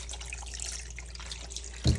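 Water from a tap running into a container to soak fish for tinapa, a soft, steady trickle close by with a brief louder splash near the end.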